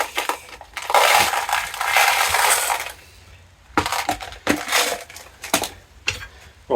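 Old air-rifle pellets tipped out of a metal pellet tin, a loud dense rattling pour for about two seconds, then a quieter pause and several shorter bursts of clattering shakes.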